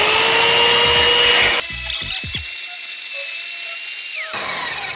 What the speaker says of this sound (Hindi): और अब हम इस दीवार के अंदर छेद करने वाले हैं, जिसके लिए आइबेल हमने यहाँ पर ड्रिल मशीन ले लिया है।